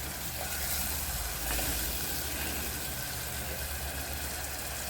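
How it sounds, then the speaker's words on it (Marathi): Chilies sauté in a ground spice paste with turmeric in a pan, cooking for a green pigeon pea pod vegetable dish, giving a steady, close, hissing sizzle that runs unbroken throughout. "छान परतून घ्यायच्या मिरच्या वाटलेलं वाटणामध्ये"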